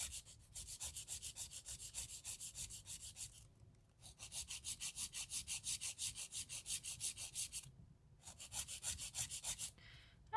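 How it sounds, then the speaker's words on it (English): Hand file filing gel nails shaped into a coffin look, heard as close, steady back-and-forth rasping strokes in three long bursts separated by short pauses. "I like to use a hand file for most of my filing."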